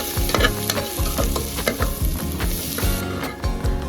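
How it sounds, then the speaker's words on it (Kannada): Biryani spices frying in a pan with steady sizzling and repeated scraping strokes of a stirring spoon, close and fairly loud, no voices. "ಇದೆಲ್ಲನೂ ಒಟ್ಟಿಗೆ ಚೆನ್ನಾಗಿ ಫ್ರೈ ಮಾಡ್ಕೋಬೇಕು"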